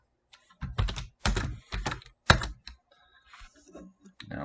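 Bursts of quick keystrokes on a computer keyboard, clustered clicks in a few rapid runs with short pauses between, close and clear in a quiet room.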